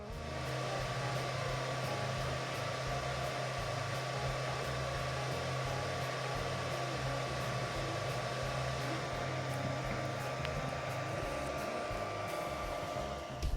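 A 3D printer prints a replacement geocache part, giving a steady, even whirring hum with a constant motor tone that runs unbroken and fairly quiet throughout.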